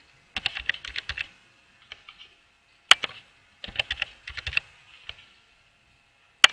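Someone types a password on a computer keyboard in short bursts of close, sharp key clicks separated by brief pauses, with no talking.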